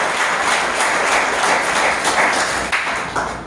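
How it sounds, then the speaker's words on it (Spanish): A church congregation applauds during a sermon, a dense, steady wash of many hands clapping that stays loud and even throughout, tapering slightly near the end. "¿Cuánto le da un aplauso al Señor por eso?"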